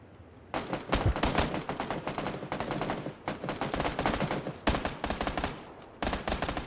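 Gunfire in PlayerUnknown's Battlegrounds, loud rapid bursts of shots in several volleys with brief pauses between them, close and dense.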